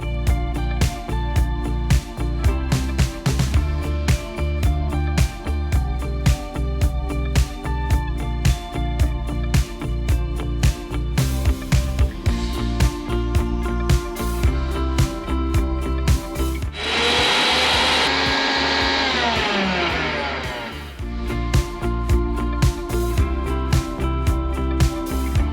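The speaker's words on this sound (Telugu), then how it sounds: "ముందుగా మనం బీట్రూట్ మిక్సీ పట్టేద్దాం" A mixer grinder blends beetroot pieces in a loud, whirring burst of about four seconds midway, set against continuous rhythmic background music.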